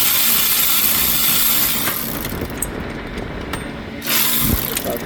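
Ratchet wrench loosening a 12 mm belt tensioner bolt on a 2006 Nissan Maxima during an AC compressor replacement, giving close mechanical clicks and scraping strokes under a steady background hiss.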